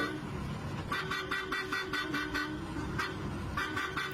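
A bus horn honks repeatedly in short bursts over steady engine and road noise, fairly close, with a brief pause before the final honks.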